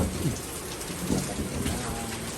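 Steady rain pours down in a dense, even hiss, with a faint low rumble underneath.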